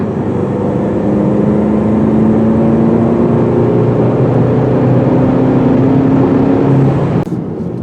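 A 2020 Volkswagen GTI with a 6-speed manual drives on backcountry roads, its engine droning loud and steady inside the cabin, pitch climbing slowly through the gears before a brief clunk near the end.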